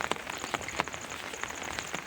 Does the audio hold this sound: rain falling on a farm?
yes